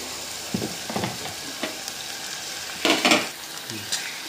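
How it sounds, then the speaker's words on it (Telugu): Curry leaves fry in hot oil in a village kitchen while a chikkudukaya masala curry is being made, giving a steady close crackling sizzle with a few louder bursts of spattering and stirring clatter, and no voices. "ఇదిగోండి వేగుతుంది."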